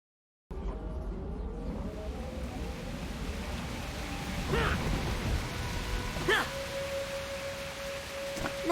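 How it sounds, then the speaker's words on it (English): Steady rain falls in the video game Blade & Soul, a constant hiss of drops, joined by a faint tonal chime and a few sharper splashes or knocks. "Master, we should get inside before the rain gets any worse."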